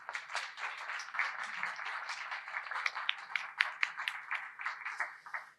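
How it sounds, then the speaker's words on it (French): An audience at a conference event applauds the sponsors, with dense, fairly close clapping sustained throughout and fading slightly at the end. "Je vous demande de les applaudir"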